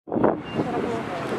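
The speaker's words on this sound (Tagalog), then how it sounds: "Sarap lang ang hangin." Breezy wind gusts across the microphone outdoors in Dubai, a steady broadband rush with a sudden onset and a couple of louder swells, close and fairly loud.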